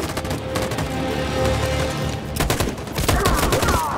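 Machine gun fire in Detroit: Become Human goes off in loud, rapid bursts. Dense volleys run through the whole stretch, with a short pause and then heavier fire near the end.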